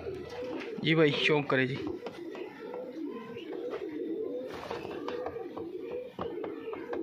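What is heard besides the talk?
Punjabi malwai pigeons cooing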